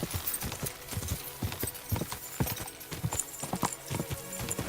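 Hooves of a horse galloping in the game Kingdom Come Deliverance 2 beat in a quick, steady clip-clop rhythm over a busy outdoor ambience, with a brief whinny possible in the mix.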